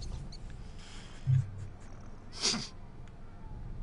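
A short, faint cat meow in the video game The Urbz: Sims in the City rises once over quiet background hum, preceded by a brief low thump.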